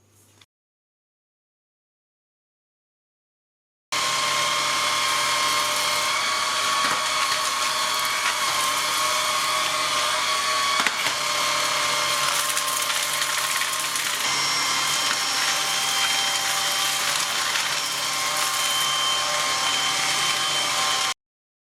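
A Vistefly VX cordless stick vacuum runs at speed 3 picking up rice, switching on after a few seconds of silence into a loud, steady whine with rattling crackles as the grains are sucked up, and no talk is heard.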